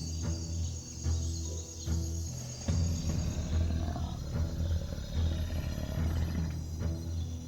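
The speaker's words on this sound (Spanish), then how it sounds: "Rugió para afirmar su poder, pero ese rugido solo fue respondido con el sonido burlón del miedo que se había desvanecido." A lion gives low, rumbling roars in a savanna setting, rising over a steady bed of chirping insects and a faint distant bird.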